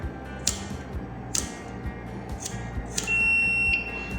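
A buzzer wired to an Arduino flame sensor sounds when a flame is brought near. A thin, high, steady tone comes in late and holds for under a second, with a few sharp clicks and light ticking in the background before it.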